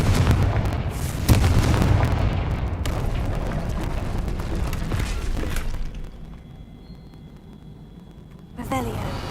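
Confringo blasting-spell explosions in Hogwarts Legacy: a loud blast about a second in over heavy rumbling, which fades to quieter ambience before another burst near the end.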